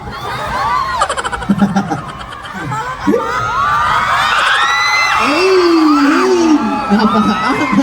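A festival crowd at the Bangus Festival roars with cheers, whoops and high-pitched shouts. The sound is loud and continuous, rising into bursts of screaming, with voices calling out among it.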